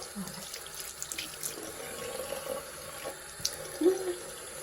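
Tap water runs steadily into a sink while a makeup brush with powder on it is washed under a lukewarm stream with soap; a close, continuous splashing flow with small shifts in intensity.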